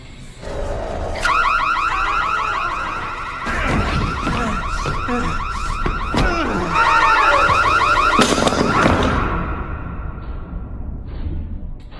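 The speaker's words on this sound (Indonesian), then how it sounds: "Mahdi pun membunyikan alarm kebakaran yang suaranya sangat keras yang sangat menyakitkan telinga" A piercing fire alarm wails loud and close, a rapid warbling electronic tone that cycles repeatedly for about ten seconds with thuds and scuffles beneath it, then cuts off.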